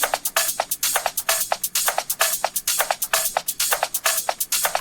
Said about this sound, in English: So now when we play all the drums together, it sounds like this.